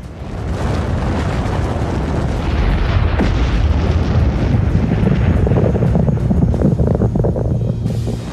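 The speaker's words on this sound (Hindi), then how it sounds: "Atom bomb." An atomic bomb explosion as a loud, sustained roaring rumble with heavy low-end boom and wind-like blast noise, continuous throughout without any voices.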